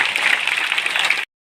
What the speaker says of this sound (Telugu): సార్ పెద్ద ఎత్తున క్లాప్స్ ఇవ్వండి.